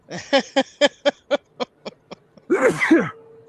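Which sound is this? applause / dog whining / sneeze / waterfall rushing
sneeze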